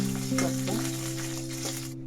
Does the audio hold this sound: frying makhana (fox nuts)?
yes